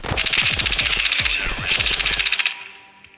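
Rapid bursts of gunfire from a sniper rifle ring out in the video game Stones C, a dense string of loud cracks with low booms underneath. The shots stop abruptly and leave a short quiet tail.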